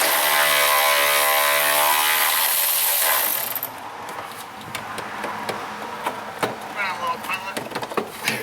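A ratchet wrench clicks rapidly and repeatedly while removing bolts on a Jeep Grand Cherokee, preceded by a loud whirring burst, with a voice talking briefly underneath.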